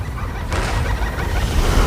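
A dinosaur call in the game Path of Titans, a loud, rough, gobbling honk that carries on steadily for about two seconds with a grainy texture and no speech over it.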